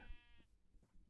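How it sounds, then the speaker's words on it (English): A sheep in Minecraft gives a single clear bleat at the start, a wavering harmonic cry about half a second long that fades into quiet game background. "Literal black sheep."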